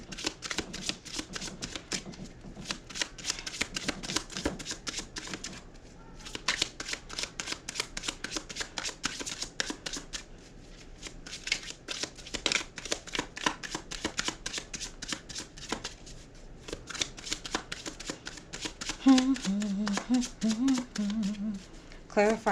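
A deck of tarot cards is shuffled over and over in quick, rustling bursts. The close, crisp riffling runs almost without a break, with a short pause partway through.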